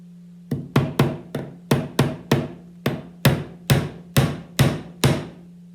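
A hammer drives nails into a soft pine board for string art, with about a dozen crisp, evenly spaced strikes, close and loud, and no talking.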